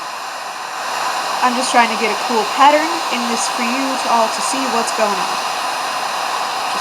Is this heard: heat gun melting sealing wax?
yes